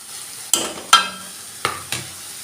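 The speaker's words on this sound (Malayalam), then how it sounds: "ഇത് നന്നായിട്ടൊന്ന് ഇളക്കുക സമം നന്നായിട്ട് ഇളക്കി" A pan stir-fry of banana stem with sprouted green gram being stirred: four distinct scraping strokes of a spoon against the pan over a low, quiet sizzle.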